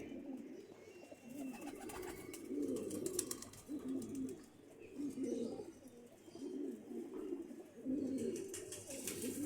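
Soft, repeated cooing of Teddy pigeons, gentle low warbling calls rising and falling close by, with faint background noise.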